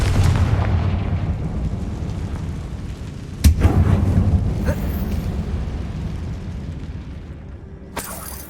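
A Confringo explosive spell blasts inside an abandoned mine tomb in Hogwarts Legacy, with one sharp, loud boom partway through against a rumbling, crackling game backdrop and a smaller pop near the end.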